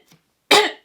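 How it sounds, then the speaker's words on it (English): A single sharp, close cough bursts out after a faint small sound and trails off quickly. "What a strange cough."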